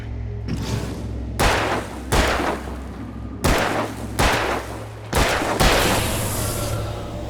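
Gunshots in Alan Wake Remastered, five loud, booming reports spaced about a second apart, each trailing into a noisy reverberant tail over a low steady hum.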